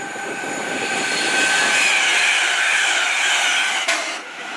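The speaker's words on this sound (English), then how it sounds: "passing through now is the London Midland service to Northampton from London Euston" A London Midland service to Northampton from London Euston passes South Kenton on the West Coast Main Line, a loud, steady rushing hum that swells and then drops off sharply near the end.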